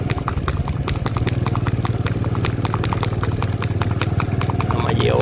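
A mare ridden through a city beats out a steady, close clip-clop of hooves on the road, over a constant low engine hum, with voices faintly mixed in.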